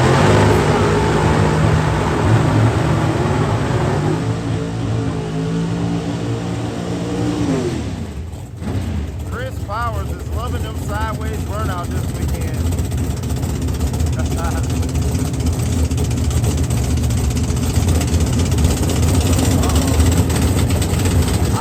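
Mountain Motor Pro Stock drag racing cars at an IHRA Pro Mod Nationals qualifying session, loud engines droning and revving then roaring away at full power, continuous and heavy, with an announcer talking over them.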